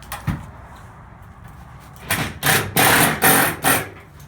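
A small impact driver drives fasteners into the corner of an aluminum diamond plate floor, with a sharp knock followed by several loud rattling bursts in quick succession.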